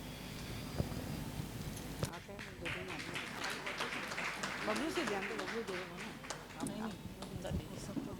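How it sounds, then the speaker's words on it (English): A hall audience at a corporate rewards and recognition ceremony breaks into steady, crackling clapping that continues for several seconds while voices carry on over it. "Round of applause to Mrs. Anaga."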